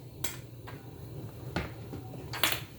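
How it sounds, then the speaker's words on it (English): Ground pepper shaken from a shaker into a measuring teaspoon during spaghetti bolognese prep: a handful of sparse, light clicks and taps, close by and fairly quiet against a low background hum. "So I'm going to shake my pepper in,"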